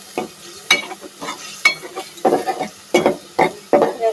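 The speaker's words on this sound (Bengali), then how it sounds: "গ্যাসটা আগে আমি কিছুক্ষণ এই তেলে কষিয়ে নেব, তারপর এর সাথে সব কিছু অ্যাড করে দেবো" Ground masala paste fries in hot oil for egg bhuna, with repeated close scraping stir strokes over a soft sizzle in an uneven rhythm.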